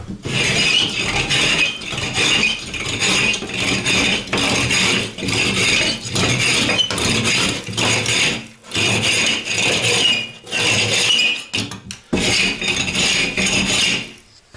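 Steady rough rasping strokes of a plaster rasp scraping a bathroom plaster wall surface, repeated in bursts with brief pauses, close and fairly loud.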